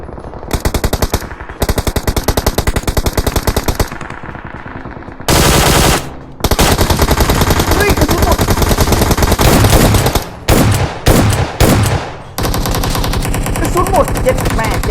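Automatic gunfire in the PUBG Mobile video game: loud, rapid bursts of fire in long sustained strings broken by short pauses, close and dominant, with voices occasionally underneath.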